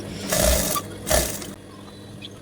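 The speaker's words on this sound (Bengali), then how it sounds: "এখানে আমি ডাবল সেলাই দিচ্ছি একটা তো দিলাম এখন আরও একটি সেলাই দিয়ে দিচ্ছি" A sewing machine stitches a second, double seam on a child's dress, running in two short bursts with a quiet pause after, and no talking.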